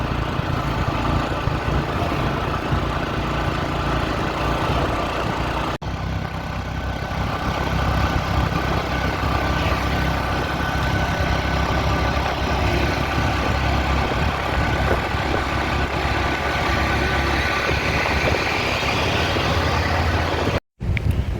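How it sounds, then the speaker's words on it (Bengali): An auto rickshaw engine drones steadily and fairly loud throughout a ride on a smooth road from Canning to Sonakhali in the Sundarbans region, a continuous low rumble with no talk. "তো সেরকমই একটা অটোতে যাচ্ছি"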